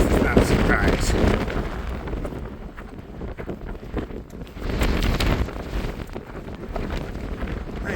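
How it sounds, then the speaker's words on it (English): Strong gusts batter the microphone near a mountain summit in Glacier National Park's Two Medicine area, a loud roaring rush that surges and eases over several seconds with no voice. "It's really, really windy."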